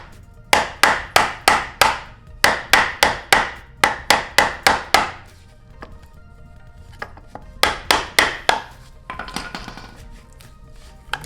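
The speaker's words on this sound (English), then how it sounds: "So you can see here the pry bar is cutting right through it" A pry bar forces out a weak plastic-and-rubber rear differential bushing on an Audi B5 S4, striking in fast bursts of sharp close knocks, several groups of five or six blows separated by short pauses.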